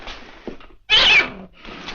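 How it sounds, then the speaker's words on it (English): A house cat, mother of a new litter, meows once loudly and clearly in a quiet indoor room, a drawn-out cry framed by softer faint rustles before and after. "Our cat had kittens and they're all over the place."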